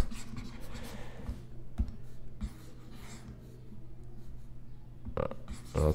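Eraser rubbing out chalk or marker writing on a classroom board during a maths lesson, a series of scratchy back-and-forth wiping strokes with a few sharper knocks, fairly close and moderately quiet.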